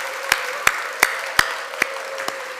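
A church congregation claps briefly for the choir during a Sunday service, six sharp, evenly spaced claps ringing in a reverberant sanctuary with a faint steady tone underneath.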